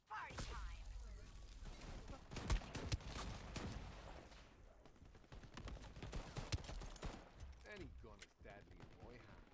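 Sniper rifle and other gunfire crackle in the online shooter Shatterline, with sharp shots scattered through a busy battle mix while someone talks over it.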